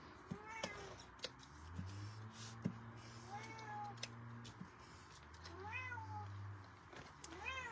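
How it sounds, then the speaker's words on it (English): A pet cat meows repeatedly indoors, several drawn-out rising and falling cries spaced across the stretch, fairly faint against a quiet room with small handling noises. "Can you hear my kitty?"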